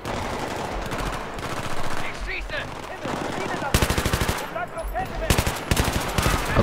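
Rapid automatic gunfire from a weapon in the video game Battlefield 3, loud and close, with dense bursts that stop and start again over a steady background of game noise.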